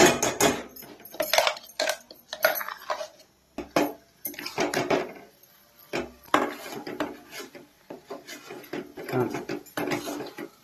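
Tomato chutney being stirred in a pot, with repeated scraping and knocking of a utensil against the pot in irregular bursts, close and moderately loud, with a voice talking over parts of it.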